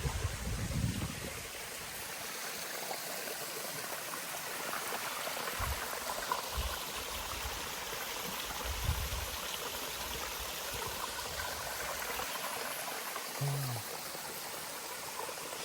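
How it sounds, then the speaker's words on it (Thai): A forest waterfall in Thailand, running low in the dry season, gives a steady broadband rush of falling water that stays faint and continuous with no voices. "ไม่คิดว่าจะมี น้ำตกแบบนี้ยังเหลืออยู่นะตอนนี้"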